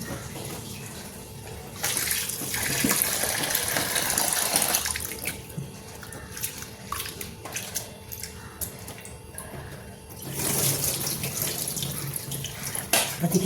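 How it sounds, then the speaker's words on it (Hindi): Water is poured off washed lentils and rice in a kitchen, a steady splashing stream lasting several seconds that eases, then surges again near the end, with no talk over it. "इस पानी को बस निकाल देते हैं।"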